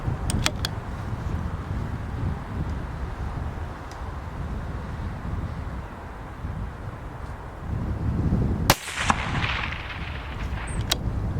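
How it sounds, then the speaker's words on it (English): A CZ 600 Trail rifle in .223 fitted with a Freyr & Devik moderator fires outdoors, a sharp suppressed report standing out over steady wind noise, with a few fainter clicks around it. "I'm just going to take a few shots with it, see what it's like."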